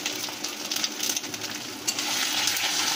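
Ginger and garlic frying in a pan with a little turmeric over low gas, a steady close sizzle with light crackling and occasional stirring scrapes throughout.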